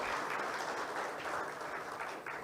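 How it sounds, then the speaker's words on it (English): A crowd at a live industrialization forum applauds a speaker, sustained even clapping, fairly faint and distant, with no voices over it. "Give him a clap."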